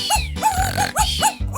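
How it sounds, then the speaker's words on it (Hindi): A toy robot dog barks loudly and close, giving four evenly spaced, electronic-sounding yaps with no voices. "तुम्हारा कुत्ता बहुत ऊंचा भौंकता है।"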